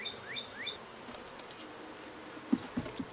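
Robber bees buzz around a weakened horizontal beehive in a soft, continuous hum. A few bees zip close and loud near the end, and faint bird chirps sound early on.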